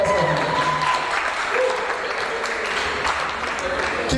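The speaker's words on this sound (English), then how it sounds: "please join me as I welcome Mr. Emeka Osai. Please, a round of applause for him." Dense applause from a seminar audience fills the room, steady clapping throughout, with a voice calling out over it.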